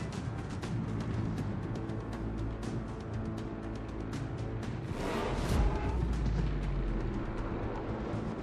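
Naval artillery fire in World of Warships, a steady, dense roar of heavy gun blasts and booming impacts with a louder, deeper salvo partway through.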